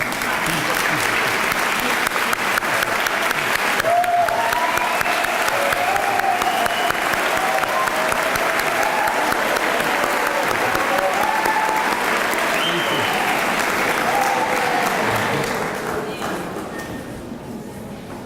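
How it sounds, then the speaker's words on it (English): Sustained applause from a graduation audience for the standing faculty, a dense wash of clapping at steady loudness with scattered cheers and voices mixed in, easing off near the end. "Please stand up so we could give you a round of applause, please."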